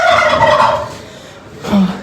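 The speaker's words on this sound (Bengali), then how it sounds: "এই সাইডে মুরগিগুলো দেখেন" Chickens at a poultry farm give a loud close cluck and squawk, followed after a short pause by another throaty call.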